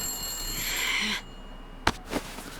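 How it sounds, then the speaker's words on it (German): A telephone in a broken-down ruin in The Long Dark video game rings with a bright, sustained bell tone. It cuts off after about a second, and two sharp clicks follow in the quiet. "Und wer läutet da? Die Molly. Das einzige, was funktioniert, ist das Telefon."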